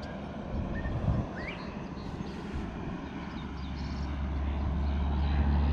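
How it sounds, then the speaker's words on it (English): A crop-dusting airplane spraying fungicide passes overhead, its engine drone steady and growing louder as it approaches, with no talk. "how many planes they got flying for them?"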